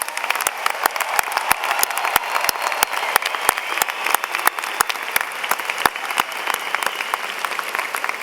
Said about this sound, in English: So let's please join me in a round of applause for the class of